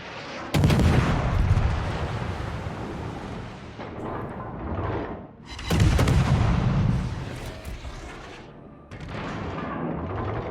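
Enemy ship guns fire in a World of Warships naval battle, heard as two heavy booming salvos with long rumbling decays and a third blast near the end, loud and close, with no talk over them.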